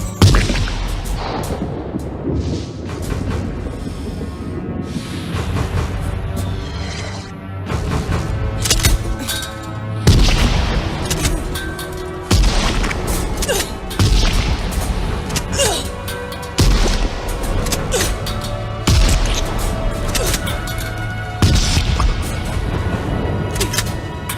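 Gunfire from a scene in Terminator 2, where a woman empties a weapon into the T-1000: loud, repeated shots and heavy booms over swelling film music, with brief shouted voices between them.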